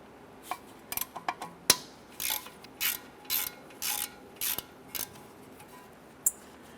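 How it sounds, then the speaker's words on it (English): A ratchet loosens a 10mm bolt on a Nissan Versa, with short bursts of quick pawl clicking repeated in irregular strokes, close up against a quiet background. "I'm going to go ahead and loosen that bolt."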